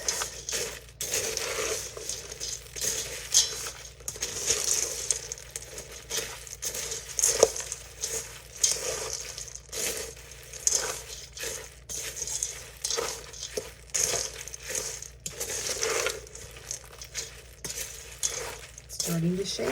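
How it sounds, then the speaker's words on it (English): Thanksgiving dressing, or stuffing, being mixed in a bowl gives off repeated moist squelching and crunchy scraping strokes in an uneven rhythm, close and moderately loud. "Give this a little mix."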